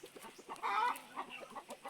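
A chicken clucks repeatedly in short, uneven bursts, with one louder, drawn-out call in the middle and softer clucking around it.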